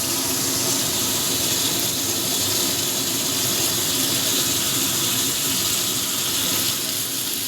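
Chopped onions with salt frying in oil in a covered pan, a constant broadband hiss and sizzle that runs loud and unbroken throughout with no voices.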